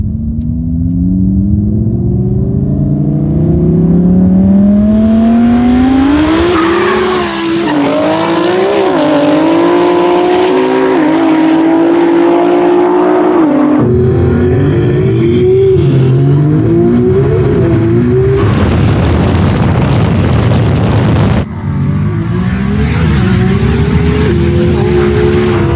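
A 1650hp R35 GT-R and a 1600hp Audi R8 roll race side by side, engines roaring loud and close as they climb through the gears with rising pitch, brief shift breaks and a sustained high-speed howl.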